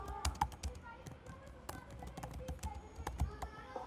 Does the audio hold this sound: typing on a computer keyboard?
yes